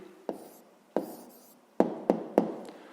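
Pen strokes jot down the answer to a fifth-grade maths problem as a handful of quick, close scratches and taps on paper, with a faint rustle between them and no speech.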